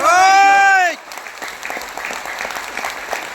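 An audience at a stage event applauds, with steady, moderately loud clapping from a crowd after a short, loud sustained tone at the start.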